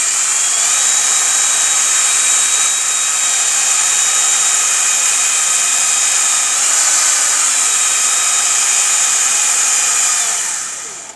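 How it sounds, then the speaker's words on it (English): Power drill spinning a CNC lead screw while it is sanded with sandpaper, a loud steady high-pitched whine held close for about ten seconds before winding down. "I'll take a drill and then I'll grab some sandpaper and simply hold the lead screw"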